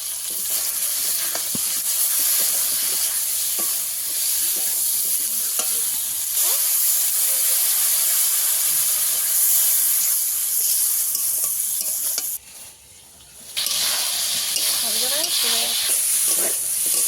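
Fish curry spices, chili powder and tomatoes frying in a pan, a steady loud sizzle with occasional stirring clinks and a brief quieter gap.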